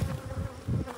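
Honey bees buzzing around vertical hives and nucleus colonies, a dense steady hum that swells in soft pulses, close and continuous.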